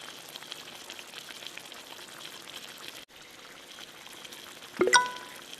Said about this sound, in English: Carefully ladle it into the simmering stock.